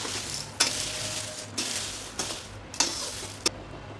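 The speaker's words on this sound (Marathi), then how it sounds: "आता मिरच्या भाजायच्या आपल्याला. बघू शकता एकदम कमी तेलामध्ये भाजलेलं." Dried chillies roast in a small amount of oil for a homemade onion-garlic masala, giving a soft, steady sizzle with several sharp stirring scrapes of the pan close by, no voices.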